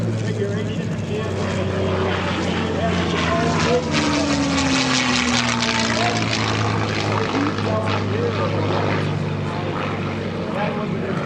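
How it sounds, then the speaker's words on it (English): Lone P-51 Mustang warbird flying overhead at an air show, a steady loud propeller engine drone with a slowly shifting pitch throughout, with a commentator's voice running beneath it. "It's a lone P-51, same cover, over the top."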